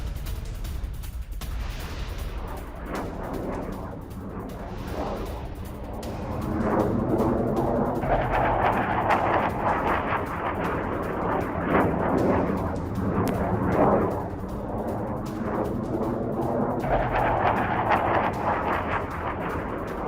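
GBU-39 guided bombs explode in war footage, a series of heavy booms and rumbling blasts that swell and recur over about twenty seconds against a continuous roar.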